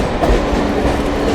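DEMU passenger train leaving Kacheguda station, a brief burst of loud onboard rumble and wheel clatter heard from inside the coach.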